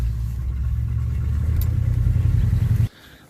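A Chevrolet Monte Carlo engine idles steadily after a cold start, its low rumble close and loud, then cuts off abruptly near the end.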